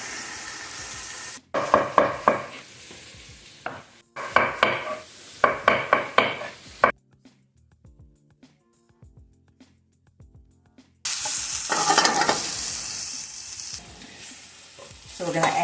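Sautéed vegetables, mushrooms among them, are stirred in a pan of sizzling oil with bursts of scraping strokes, a short quiet gap, and then loud steady frying.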